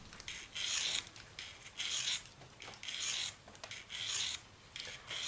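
A sharpener rasps steadily along the edge of a steel broadhead in short, even strokes, a faint dry filing scrape repeating about every second.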